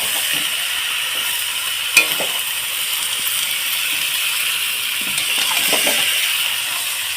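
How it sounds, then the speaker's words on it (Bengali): Banana flower and prawns being stir-fried in a pan, a steady close sizzle with scraping stirs and a sharp clink near the start. "এইভাবে এর মধ্যে দিয়ে পাঁচ মিনিট ভালোভাবে কচিয়ে নেব"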